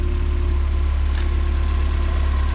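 A 1993 Mazda Miata LE engine idles through its factory catalytic converter exhaust, a steady, loud, low-pitched rumble with an even pulsing throb and no voices.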